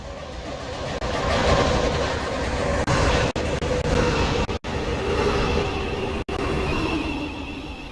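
A five-coach passenger train in a video game rolls steadily through a station with a continuous loud rumble and rail noise, broken by a few sharp brief dropouts.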